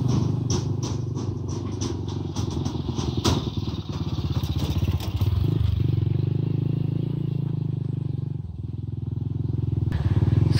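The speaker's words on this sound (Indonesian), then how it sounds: "ada motor lewat nih" A motorcycle crosses a small village bridge, its engine droning steadily up close with clattering, thudding knocks from the deck as it passes, the sound swelling again toward the end.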